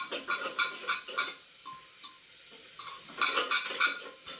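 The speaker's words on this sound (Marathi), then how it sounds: "तेलात आता बघा कांदा ना लाल होऊ द्यायचं" Onion being fried in oil for a quick biryani, with rhythmic stirring scrapes and clinks of a spoon against the pot over a faint sizzle, pausing briefly midway.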